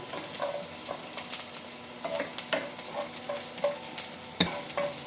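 Onion and garlic sautéing in oil in a pan for chicken sinigang, with a steady soft sizzle broken by repeated close scraping and stirring clicks of a utensil against the pan.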